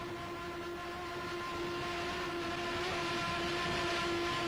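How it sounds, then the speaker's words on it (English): Lamborghini-engined Class 1 offshore powerboats racing off Guernsey in 1992, a steady high droning engine whine with sustained tonal harmonics over a broad rushing wash, heard at a distance and holding level throughout. "The scream of the Lamborghini engines and the roller props biting into the water as Steve Curtis and Leonardo Poli head down their kilometre run"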